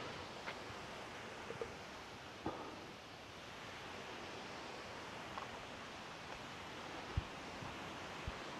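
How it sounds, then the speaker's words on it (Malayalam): A small waterfall-like stream flowing down past steps in the Ponmudi hills, a steady soft wash of water with faint rustling and no talk. "അരുവി പോലെ വെള്ളം ഒഴുകി വരുന്നുണ്ട്"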